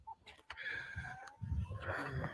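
Chickens cluck and murmur continuously inside a chicken tractor, close and fairly loud, with scattered higher squawks and some handling noise.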